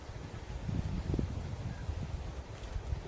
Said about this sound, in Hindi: हवा भी काफ़ी बह रहा है दोस्तों, बहुत तेज हवा बह रहा है